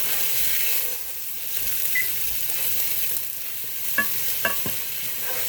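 Diced onion with salt stirred in a sizzling pan: steady frying hiss with repeated scraping strokes and a few louder knocks of the utensil against the pan near the end.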